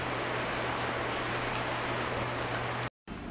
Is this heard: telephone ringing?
no